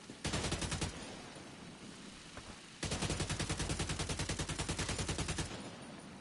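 Sustained automatic gunfire from The Division 2 video game rattles in two long bursts, loud and rapid, with a short pause between them.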